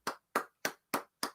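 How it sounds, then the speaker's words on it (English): Hands clap five times in an even, quick rhythm, each clap sharp and isolated against silence and fairly close, with no voices. "We're sitting here clapping."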